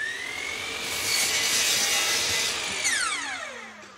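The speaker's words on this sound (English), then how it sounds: "I can cut my piece of plywood that'll make up the deck to the same length" A power saw cuts a plywood deck panel to length. The motor whines up, holds a loud steady cutting roar for a couple of seconds, then winds down with a falling pitch.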